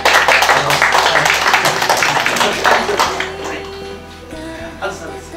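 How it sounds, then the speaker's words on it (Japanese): Audience applauds at a stage greeting for a film screening, loud dense clapping at the start that thins and fades away, followed by quieter room sound with faint tonal hums. "ちょっと大きな拍手をお願いします"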